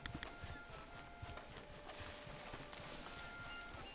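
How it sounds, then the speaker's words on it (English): A horse's hooves clip-clop in Red Dead Redemption, a quiet, uneven patter of steps near a camp, with faint background ambience. "Hitch the horse."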